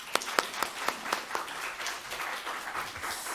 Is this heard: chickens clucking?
no